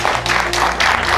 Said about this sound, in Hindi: पहले तो इसके लिए तालियां बजाओ सारे